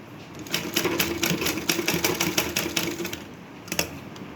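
A sewing machine stitches blouse fabric in a steady rapid run of needle strokes, pausing briefly near the end before a last short burst; no one speaks.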